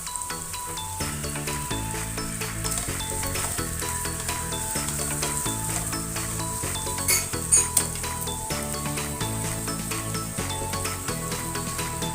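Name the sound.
halved cherry tomatoes sizzling in pan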